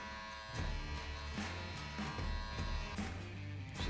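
An electric trimmer nips at a beard, shaping a small ducktail along one side with a close, steady buzz that runs unbroken, its tone wavering slightly as the blades move through the hair.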